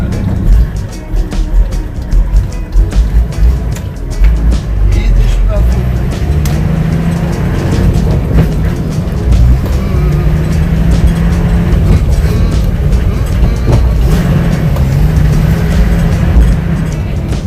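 A commercial bus on a Jamaican road pulls around a corner in first gear, its engine a steady, loud low drone with road rumble throughout, while people talk over it.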